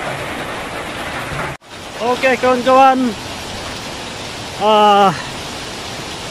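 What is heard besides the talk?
rain falling near Mahua Waterfall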